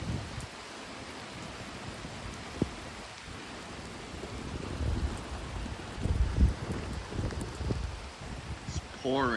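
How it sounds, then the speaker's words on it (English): Heavy rain pours steadily during a massive rainstorm outdoors, a dense, continuous wash of noise that stays loud throughout, with a few brief louder spikes and no talking. "You guys can hear the rain."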